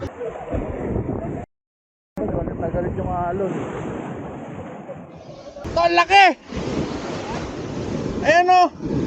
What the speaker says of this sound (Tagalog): Grabe mga alon pre.